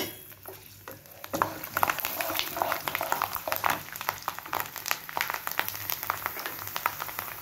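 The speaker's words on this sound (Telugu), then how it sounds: "కొన్ని మెంతులు, కొన్ని ఆవాలు, వెల్లుల్లిపాయలు, ఇవి వేయించేసుకుందాం." Fenugreek seeds, mustard seeds and garlic fry in hot oil for a tempering, giving a continuous close crackle with sharp spitting pops scattered throughout.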